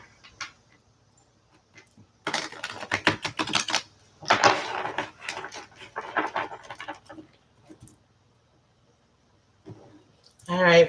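Tarot cards being shuffled and flipped on a table, a soft riffling and papery slapping in two dense bursts with scattered lighter flicks between, close and fairly quiet, with a brief voice near the end.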